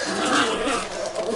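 Dogs growl and bark close by in a home kitchen, a steady rough snarling with short yips over a cluttered background, with no speech.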